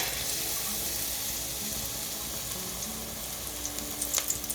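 Palak leaves coated in thin gram flour batter frying in a kadai give a steady, even hiss of oil sizzling throughout, with a few faint pops near the end and no talk.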